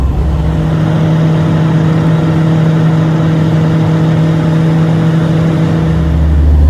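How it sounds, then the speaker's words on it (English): An old Toyota Hilux engine labours steadily up a steep hill, a constant loud droning hum with no gear changes, heard from inside the cab. "Too steep for the old Hilux."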